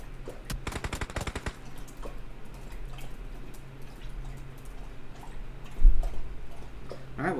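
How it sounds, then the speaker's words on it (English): An M4 rifle and Tommy gun fire in PUBG Mobile: a rapid burst of loud automatic shots early on, then a quieter stretch with faint clicks and a soft thump near the end. "Ghost pulling a little bit of a flank here. Rocking an M4 Tommy gun combo"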